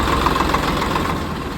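A tractor engine idles nearby, a loud, steady, knocking rumble that holds evenly through the short stretch, without voices.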